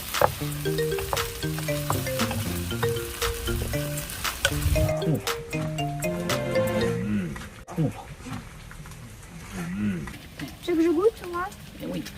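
Pad thai being stir-fried in a new pan over a strong flame sizzles steadily underneath ongoing conversation, with the frying noise continuing throughout the clip.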